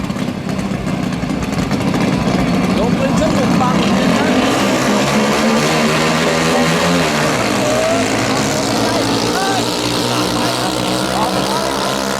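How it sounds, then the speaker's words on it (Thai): A racing speedboat engine at a speedboat race fires up and revs loudly and steadily, its rough drone rising and falling over about twelve seconds, with a commentator talking over it. "ติดเครื่องแล้วครับ"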